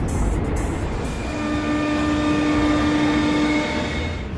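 A commuter train rumbles loudly past on a railway in Navi Mumbai, a long horn blast sounding over the steady roar of wheels and carriages.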